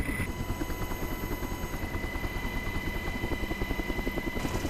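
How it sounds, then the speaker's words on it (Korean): A military helicopter hovers high over the drop point during a Marine Corps high-altitude parachute jump, its rotor thumping in a steady rapid pulse under a constant turbine whine, loud and close throughout. "드디어 강화 지점에 멈춰선 헬기."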